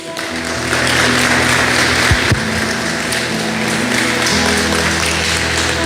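A church congregation applauds the Lord: sustained crowd clapping fills the room at a steady loud level, with a couple of sharper knocks near the middle and no distinct speech.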